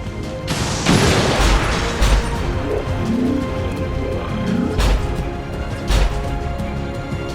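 Explosions in the video game XCOM 2 go off in several heavy booms, with a big blast near the start and more bursts spaced across the stretch, loud and close over a rumbling battle background.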